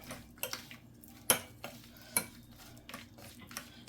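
A spoon stirs peanuts through melted chocolate in a bowl, producing close, sharp clinks and soft scrapes in an uneven rhythm, with no one talking.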